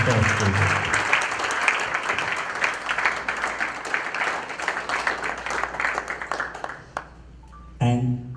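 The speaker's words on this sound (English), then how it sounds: "So give a big round clapping, a clapping for him." An audience at a spiritual talk claps steadily for several seconds, a dense, even round of applause that thins out near the end before a voice returns.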